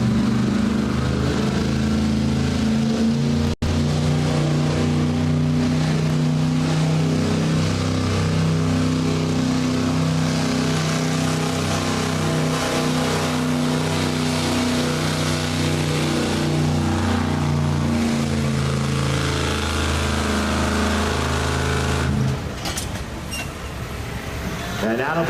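A 1976 Chevy truck engine roars loudly and continuously at a truck pull, a heavy sustained drone with steady harmonics that drops off near the end, with an announcer talking over it.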